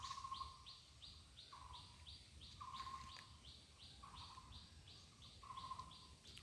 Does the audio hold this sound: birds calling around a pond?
yes